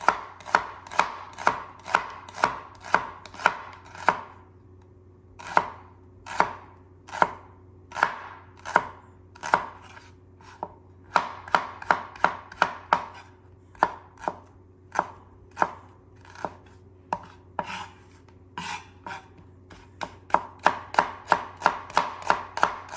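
A knife slices shallots on a cutting board in quick, crisp rhythmic chops that come in bursts with short pauses, close up and clear with no talking.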